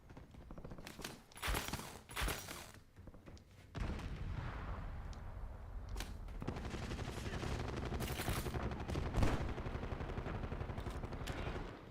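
Incoming gunfire in a video game: rapid, loud bursts of automatic fire and single cracks, sporadic at first then sustained and dense, close by.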